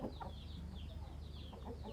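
Free-range chickens kept by a rural hill-tribe household cluck in soft, scattered calls over a steady low outdoor background, fairly quiet and continuous, with no talking.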